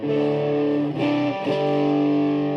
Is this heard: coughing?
no